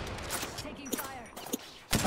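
Bursts of gunfire from a video game firefight in the sewers, sharp shots scattered across a couple of seconds, with players' voices talking over and between the shots.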